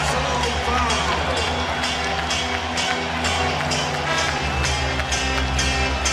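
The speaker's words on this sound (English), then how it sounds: "And now the crowd really will celebrate here in Happy Valley." Arena crowd at a college basketball game in Happy Valley roaring continuously as Penn State closes out a win over Maryland, a dense sustained wall of cheering with a loud, steady level throughout.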